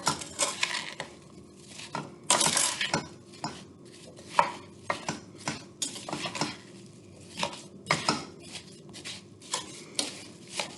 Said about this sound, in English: I'm gonna take a spoon, go ahead and mix this all up.